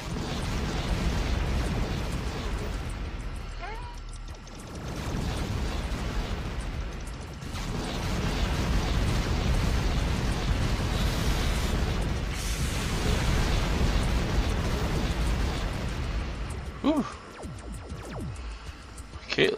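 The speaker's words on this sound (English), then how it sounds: "I want to use some grenades here" Grenades exploding in the video game Factorio during a battle, a sustained dense rumble of booms and bursts lasting most of the stretch, with brief quieter gaps between volleys.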